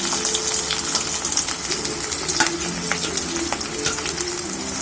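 Chopped onions hit hot oil with fennel seeds and curry leaves, giving a steady, close, loud sizzle with a few brighter crackles for a kurma base, no voices.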